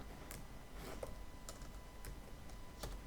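Keys clicking on a computer keyboard, a few faint, scattered taps over a low steady hum, quiet and close.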